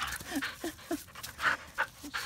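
A muddy husky pants rapidly and steadily close by, quick rhythmic huffs of breath with a faint whimper in between.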